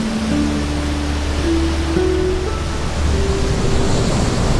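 Sea waves washing onto a shore, a steady broadband rush of surf that stays loud and close throughout with no clear breaks, and a faint held tone running underneath.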